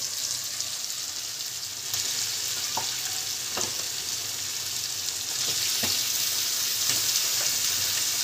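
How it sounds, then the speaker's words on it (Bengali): Chicken pieces frying in oil with cooked-down spice paste for chicken kosha, a continuous close sizzle broken by a few soft clinks and stirring scrapes, with no talking. "এবার মাংসগুলো দিয়ে দেবো।"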